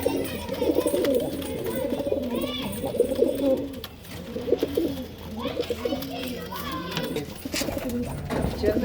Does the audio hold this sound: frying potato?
no